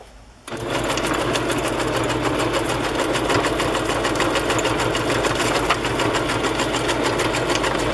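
A sewing machine stitches fabric and a lace pocket onto a journal page, starting abruptly after a short quiet moment and then running in a steady, fast, close mechanical whir with rapid needle ticks.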